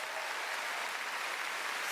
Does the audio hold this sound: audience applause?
yes